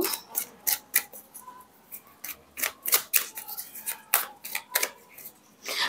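Tarot cards being drawn and handled during a reading, a busy run of crisp card snaps, flicks and rubbing close up, with no talking.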